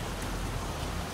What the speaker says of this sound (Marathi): 1 वाजला अजून काय पाऊस थांबला नाही.